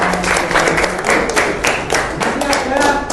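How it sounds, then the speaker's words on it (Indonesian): A classroom of students gives a short round of applause after a coding and artificial intelligence lesson, steady dense clapping filling the few seconds with a faint murmur of voices underneath. "berikan tepuk tangan"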